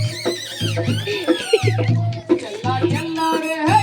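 A horse neighs in a puppet show about a bandit's horse, loud repeated whinnying calls over a low hum, likely a performer's voice imitating the horse.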